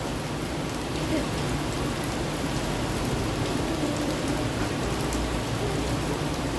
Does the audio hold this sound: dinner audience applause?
no